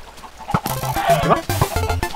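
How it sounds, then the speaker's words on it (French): Chickens falling from the sky in the video game Archero, clucking in quick repeated bursts that overlap one another, loud and close against a faint game backdrop. "il y a les poulets qui tombent du ciel"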